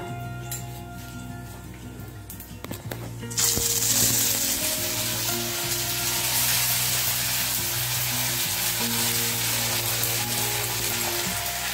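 Ginger paste hits hot mustard oil already holding cumin, nigella and mustard seeds, setting off a loud, steady sizzle that jumps up after a quieter start and keeps frying evenly.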